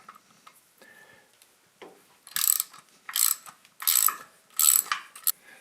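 Ratchet wrench working a 13mm nut on a John Deere 755 motor mount: four loud, close bursts of rapid clicking, each about half a second long, separated by short pauses, with no talk.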